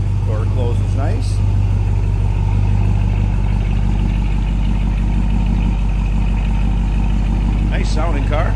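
A 1963 Ford Fairlane 500 idles with a steady low rumble, close and continuous, while a voice talks briefly over it.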